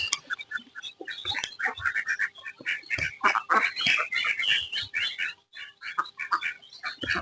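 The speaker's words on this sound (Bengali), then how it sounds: "আপনাদের আমার ডিমের হাঁসগুলা দেখাই এই হাঁস" A flock of Khaki Campbell laying ducks quacking continuously, many overlapping calls close by in a busy, chattering stream.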